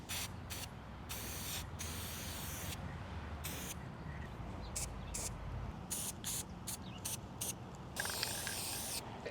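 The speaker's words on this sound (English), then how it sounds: "I was gonna spray paint the hardware" Gold gloss spray paint hisses from an aerosol can onto furniture hardware in steady close bursts, with short pauses between sprays and a longer continuous burst near the end.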